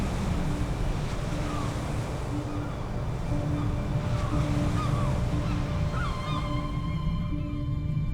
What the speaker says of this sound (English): Just steep cliffs where the white surf hits.